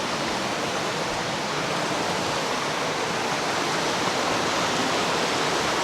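Tagbanakaw Falls in Panibasan, Maco, Davao de Oro, a waterfall pouring as a loud, steady, dense roar of rushing water that fills the whole scene without a break.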